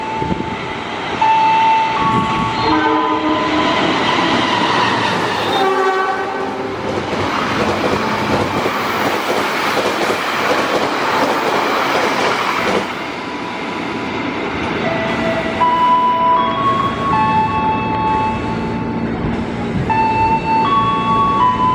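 A tourist train passes, loud and continuous rumbling and rattling of rail cars with wind noise, broken by several sustained horn blasts, close by and without talk.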